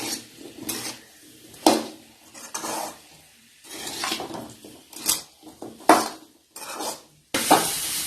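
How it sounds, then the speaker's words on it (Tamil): A spiced drumstick stir-fry is tossed and stirred in a pan, with repeated scraping strokes and clinks of the utensil against metal, in irregular bursts over a soft sizzle, close and with no speech. "இது எல்லாத்தையும் நல்லா ஒரு பரட்டி விட்டுக்கலாம்."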